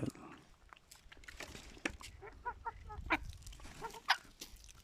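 Young Indian Game chickens cluck and chirp repeatedly at close range in a coop, with short bursts of calls over faint background rustling.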